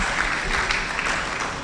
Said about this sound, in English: A round of applause for Mama.